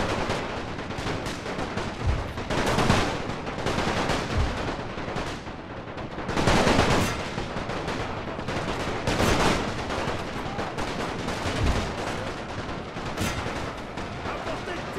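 Continuous musket volleys and cannon fire in a Napoleonic-era battle in the strategy game Napoleon: Total War, a loud, dense roar of overlapping shots with periodic heavier booms throughout.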